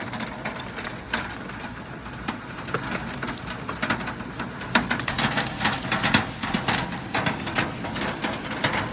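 Hailstorm with wind in Hyderabad, dense irregular pattering and sharp knocks of hailstones striking hard surfaces over a rushing background, growing busier toward the end.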